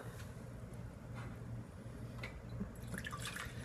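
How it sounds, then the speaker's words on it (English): About six cups of water pour steadily into a cooking pot, a soft continuous splashing trickle over a low background hum. "So I'm pouring in approximately 6 cups of water."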